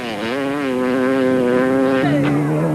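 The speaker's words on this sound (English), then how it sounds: "the motorcycles and cars constantly racing past provided plenty of spectacular entertainment" At the 1995 Toyota 1000 race, an engine whines loudly at steady high revs, then drops pitch sharply as a racing motorcycle or car shifts or passes close by.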